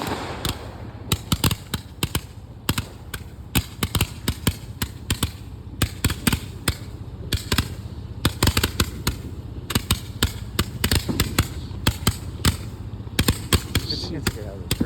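A backyard fireworks cake fires its shots in rapid succession, giving a string of sharp cracks and pops at an uneven rhythm over a steady background, with people talking between the bursts.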